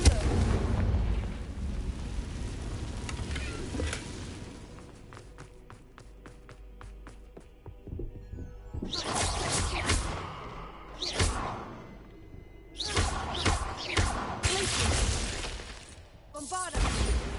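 Confringo fire spell explosions in the Hogwarts Legacy video game, several loud bursting blasts with whooshing and crackling debris, separated by quieter stretches with a ringing, rattling tail.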